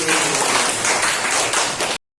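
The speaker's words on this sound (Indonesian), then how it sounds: "Tepuk tangan dulu" Short burst of applause from a classroom audience during a teaching session, dense clapping that runs steadily for about two seconds and then stops abruptly.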